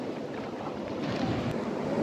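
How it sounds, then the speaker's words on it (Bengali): A strong current on the Dawki River rushes near an island, a loud continuous roar of moving water mixed with wind buffeting the microphone, with no voices. "এখন ওখানে একটা স্রোত আসছে, জলের খুব জোরে স্রোত"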